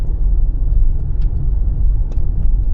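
A car rolls through the downtown streets of Oneonta, heard from inside as a steady low road rumble with a few faint ticks and rattles and no talking.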